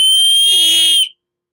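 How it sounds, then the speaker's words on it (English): A safety whistle blown hard for about a second, a loud, piercing steady shriek close to the microphone that cuts off abruptly, followed by silence. "This first one is just a whistle."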